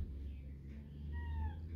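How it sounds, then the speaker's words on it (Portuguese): Cats meowing indoors, a couple of short, fairly faint rising and falling calls over a low background hum. "Outros gatos."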